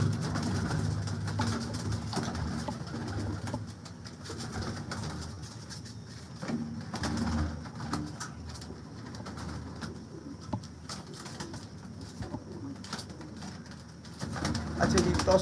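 Soft, repeated low cooing from Tausi pigeons of Ustad Dilawar Khan's breed, heard faintly at a moderate distance amid quiet background noise.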